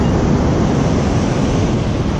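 Big ocean waves churning on a beach after a hurricane, heard as a loud, steady broadband roar of surf with wind noise and no speech.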